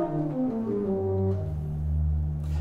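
Pipe organ of Powderham Castle, built in 1769, playing a descending run of notes that settles onto a low sustained note, heard alone in a reverberant room over a couple of seconds.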